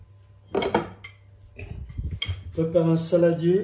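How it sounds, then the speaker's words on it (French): A glass salad bowl is set down on a kitchen counter, making a couple of clinks and knocks, and someone speaks over the clatter. "Je prépare un saladier"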